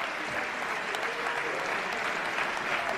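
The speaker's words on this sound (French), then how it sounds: "On les applaudit encore." Steady, dense applause from a crowd honoring two fighters at the end of a boxing bout, filling the space evenly for a few seconds with no voices over it.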